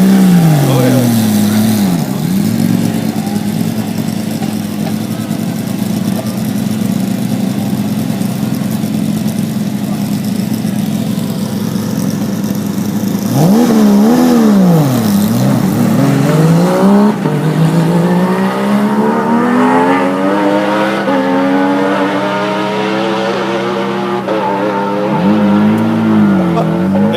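Ferrari engine idling with a steady mid-pitched rumble, broken by rising and falling revs, loud and close, with people talking over it.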